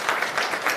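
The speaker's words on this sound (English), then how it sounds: "And a big round of applause," A conference audience in Amsterdam applauds a speaker taking the stage, a dense, steady wash of many hands clapping close and continuous with no gaps.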